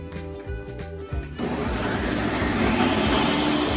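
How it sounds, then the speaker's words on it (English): A countertop blender purees a tomato mix with bouillon for Mexican rice. It starts as chopping pulses and then runs as a steady, loud, continuous whir from close by. "we're gonna blend it for about a minute until everything is completely"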